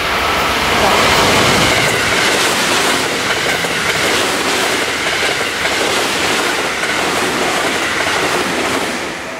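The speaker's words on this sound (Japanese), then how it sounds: "電車は7両到着します" A JR West 223 series 1000 Special Rapid train rumbles steadily and loudly along the tracks, wheels clattering with a constant roar as it pulls into a station.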